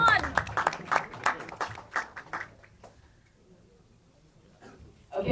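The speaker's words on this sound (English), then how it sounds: "Can we hear a big, big round of applause from the franchise India?" An audience claps and cheers at a celebrity special announcement event in India, with sharp, dense applause for the first couple of seconds that fades into a quiet room, then swells loudly again at the very end.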